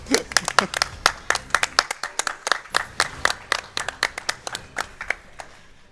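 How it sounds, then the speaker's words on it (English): A small group claps steadily for several seconds at the end of a video game speedrun at a live event, the claps close and fairly quiet, with a soft voice underneath. "So we clap now?"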